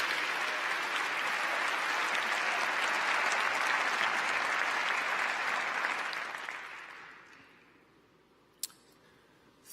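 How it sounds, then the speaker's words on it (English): Sustained applause from a large audience at a New York City State of the City address, dense and steady for about seven seconds before fading out, followed by near silence with a couple of sharp ticks. "Let's applaud all the people who make New York City great every single day."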